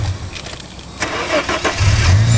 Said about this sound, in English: Have a listen to this. Now that's a 4-litre engine.